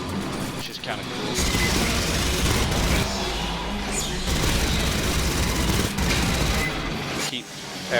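A big gun fires repeatedly in Aliens Fireteam Elite, with loud, rapid bursts and booms running almost continuously and voices talking over them.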